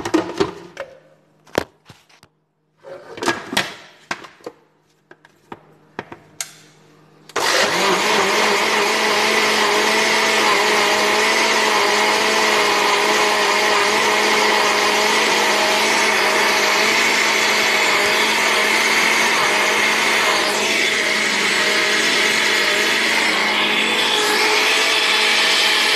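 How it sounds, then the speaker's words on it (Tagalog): A blender whirs loudly and continuously, puréeing boiled sweet potato, after several seconds of scattered handling clatter and short bursts before the motor starts. "Blender po natin."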